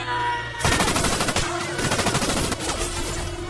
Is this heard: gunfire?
yes